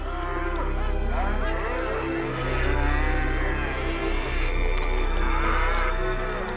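Cows moo loudly and close by in long, drawn-out, overlapping calls over a low rumbling bed, several animals answering one another without pause.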